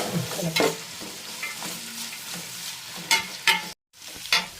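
Onions and beef masala being stirred in a hot pan, with steady frying sizzle and scraping strokes of a spoon, a brief silent gap near the end.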